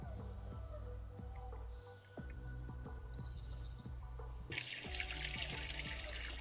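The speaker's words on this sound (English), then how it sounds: "Make sure you give your hands a good washing after you flatten that out." Kitchen tap water runs for hand washing after flattening raw breakfast sausage meat, entering partway through as a steady bright hiss over continuous background music.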